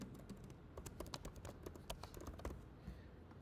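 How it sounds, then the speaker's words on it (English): Someone types on a computer keyboard in quick, uneven bursts of close, crisp key taps, with no talking over them. "I am just typing the same here"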